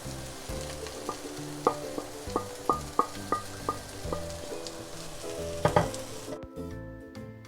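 Spices fry in a kadai for samosa chaat potatoes, a continuous sizzle punctuated by a series of sharp, evenly spaced taps and scrapes from a stirring spoon, ending in a sudden drop to quiet.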